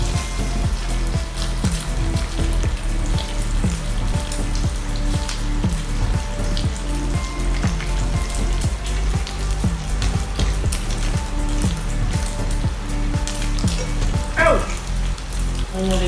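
Bacon fries in a pan with a steady, rain-like sizzle and crackle, close and even, and a rhythmic low thumping beneath it, with no talking.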